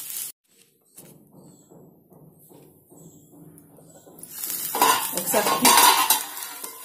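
A utensil scrapes and clinks against a pan as bitter gourd is stirred while frying: soft rhythmic strokes at first, then a louder burst of sizzling and scraping.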